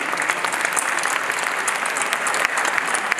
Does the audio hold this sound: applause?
yes